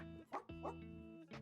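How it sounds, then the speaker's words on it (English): Cartoonish dog in the cozy game Tiny Bookshop giving a few short yips and barks over gentle game music, quiet and close. "I love the dog."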